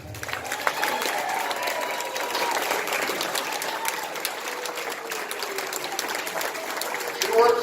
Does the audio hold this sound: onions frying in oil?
no